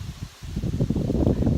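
Wind blowing across an outdoor microphone, low buffeting rumbles and gusts that swell and strengthen toward the end.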